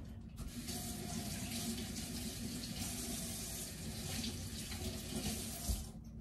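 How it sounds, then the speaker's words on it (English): Fresh berries are rinsed under a running kitchen tap, giving a steady, close, full rush of water that runs unbroken for about six seconds with no talking. "So I'm gonna rinse these off."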